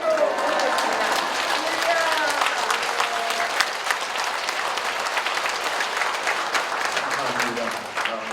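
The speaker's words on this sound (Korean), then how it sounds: "할렐루야 박수로 모시겠습니다." A standing congregation applauds a pastor at a Korean Full Gospel church service marking his 40th anniversary of ministry, with sustained dense clapping and some voices mixed in, steady and fairly close throughout.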